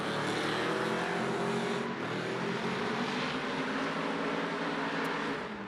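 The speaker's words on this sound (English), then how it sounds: "Now really starting to dig into that loud pedal is Regan Mccarter trying to get that thing rotated here" A Pro Spec class drift car in a qualifying run at a drift series event, its engine revving hard and steadily at high load throughout, loud and continuous with the rising and falling pitch of throttle work.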